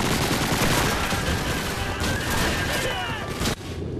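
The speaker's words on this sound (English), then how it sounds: "I can't believe how many grenades it threw." Grenade blasts and rifle fire in a Call of Duty 2 battle: a dense, loud barrage of booms and rapid gunshots running continuously, ending in a sharp final crack.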